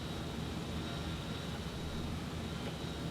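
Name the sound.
B-17 bomber engines running, video game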